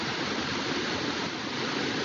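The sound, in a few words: waterfall about 150 to 200 feet high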